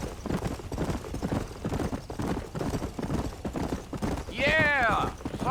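Horse hooves clip-clop steadily through a Red Dead Redemption game scene, rhythmic and close beneath ongoing talk, with a brief whinny rising near the end.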